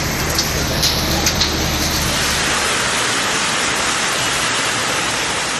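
A hailstorm pelting down in Ariyalur district, Tamil Nadu, making a dense, steady hiss and patter that stays loud and unbroken throughout, with no voices.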